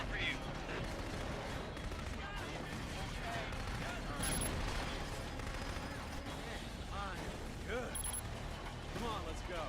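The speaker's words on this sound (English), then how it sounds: "Sniper rifle." Repeated sniper rifle shots ring out in Killzone 2 gameplay, sharp reports among dense battle noise and music with bright transient cracks near 4 and 8 seconds, steady and loud throughout.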